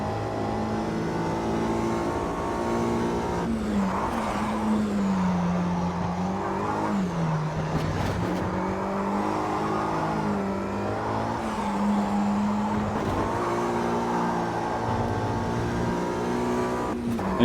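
A 1965 Mini Cooper in Copa Classic B trim, racing in Automobilista 2, with its engine note climbing steadily as it accelerates uphill. The loud, continuous rasp holds throughout with rising and falling pitch sweeps and no talking.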